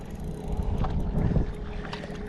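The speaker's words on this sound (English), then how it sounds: "We got the wind picking up." Wind gusting on a clear lake, heard from a fishing boat, as a low buffeting rumble across the microphone that swells and eases over a couple of seconds.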